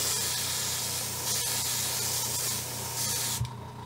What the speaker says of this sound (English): I guess if I grab the airbrush and not the spray bottle,